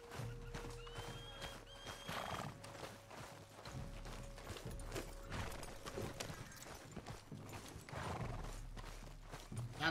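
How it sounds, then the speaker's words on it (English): Horse hooves clip-clop steadily in Red Dead Redemption 2, with whinnies and neighs breaking in, all set against a continuous game soundscape with tonal background music. "Come on over, horsey."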